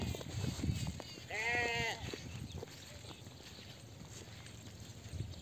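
A horned Sojat breed goat gives one short, clear bleat of about half a second at moderate distance, set against a noisy outdoor farm background.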